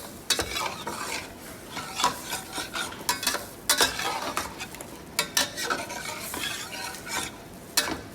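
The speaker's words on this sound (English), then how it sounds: "Whisk curd, and on slow flame we just fold everything together" Curd is whisked into chicken korma over a slow flame and everything is folded together, giving repeated close scraping and stirring strokes with soft wet sizzling throughout, no voices.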